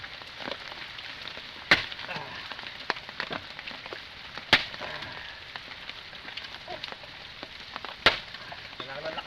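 Firewood being split by hand outdoors during rain, with three sharp, loud chop impacts spaced a few seconds apart over a steady patter of rainfall and dripping water.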